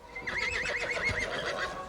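A horse whinnies in a long, wavering neigh that rises and falls over about two seconds, fairly close and clear.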